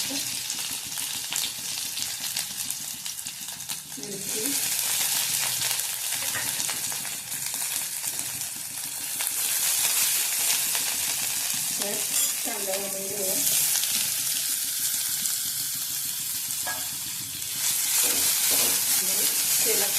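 Onion fries in a little oil with cumin and garlic in a pan, making a dense, continuous sizzle that swells and eases as it is stirred, with occasional utensil scrapes.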